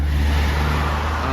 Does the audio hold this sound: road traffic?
yes